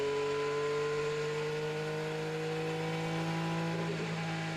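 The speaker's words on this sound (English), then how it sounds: "A look from Will Power's race car" An IndyCar race car engine at the 2016 Indianapolis 500, heard from onboard, holds a steady, high-pitched drone that rises slightly in pitch toward the end. It is fairly quiet, with no talking.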